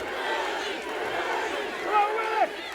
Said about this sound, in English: Listen to this crowd get behind Willie Mack